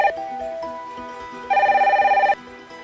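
A telephone in The Sims 4 video game rings loudly with a steady trilling electronic tone, following a short melodic chime, with no talk.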